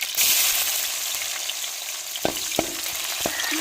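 Onions sautéing in oil for a dried anchovy (nethili karuvadu) rice dish: a steady close sizzle, with a few sharp scraping stirs of the spoon landing near the end.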